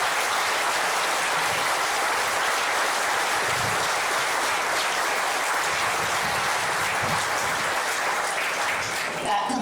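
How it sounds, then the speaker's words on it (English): An audience at a groundbreaking event for a Nebius AI factory in Independence claps in sustained, dense applause that carries steadily throughout and tails off slightly at the end. "Would you all please give a round of applause to Nebius for joining us."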